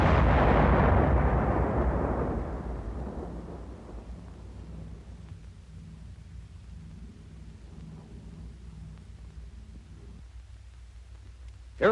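A howitzer fires a high explosive shell with a heavy booming blast that rolls away over several seconds into a low rumble, with a faint sharp thump at the very end.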